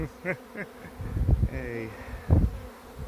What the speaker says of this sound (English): we've got a swarm in progress